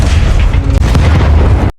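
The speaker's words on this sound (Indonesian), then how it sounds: "Lalu menara radio itu meledak." A loud radio tower explosion from the action film Hidden Strike, a sustained deep boom and roar filling the full clip before cutting off abruptly, with no voices.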